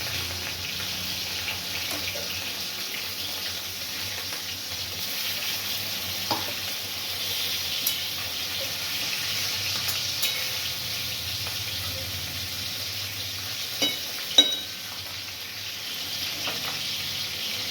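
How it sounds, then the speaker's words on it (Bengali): Fish pieces fry in hot oil for a fish curry with potato and cauliflower, giving a steady, even sizzle with a few soft clinks and taps of utensils; no talking. "তেলটি গরম হয়েছে, আমি মাছগুলি ছেড়ে দেবো।"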